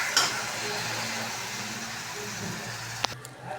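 Masala-marinated chicken for coconut milk chicken biryani going into a frying pan with oil, a steady close sizzle with a metallic clink near the end and no talk.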